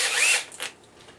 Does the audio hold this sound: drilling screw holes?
yes